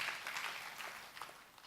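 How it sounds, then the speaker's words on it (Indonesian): A church congregation at a Sunday worship service claps together, a faint, dense patter of applause heard from a distance. "Tepuk tangan bagi Allah kita"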